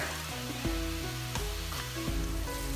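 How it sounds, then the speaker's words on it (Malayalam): Ginger, garlic and chopped onion sauté in a pan, a constant soft sizzle running under a background tune with stepped musical notes. "കുറച്ച് ഇഞ്ചിയും വെളുത്തുള്ളിയും ചോപ്പ് ചെയ്തതും പിന്നെ നമ്മൾ നേരത്തെ കട്ട് ചെയ്ത് വെച്ചിട്ടുള്ള സവാളയും കൂടെ ഇട്ടിട്ട് നല്ലോണം ഒന്ന് വഴറ്റിയെടുക്കുക"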